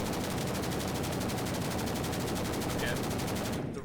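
M249 machine gun in the Blackhawk Rescue Mission 5 game firing a long continuous burst, rapid evenly spaced shots at high rate, loud and close, cutting off just before the end.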